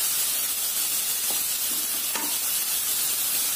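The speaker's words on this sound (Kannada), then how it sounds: "ಈ ಥರ ನಿಧಾನಕ್ಕೆ ಕೈ ಆಡಿಸ್ತಾ ಬೇಯಿಸೋಣ" Chopped onions cooking in oil in a pan on a low flame for carrot fry, a constant close sizzle and hiss with a few soft scraping stirs of a spatula.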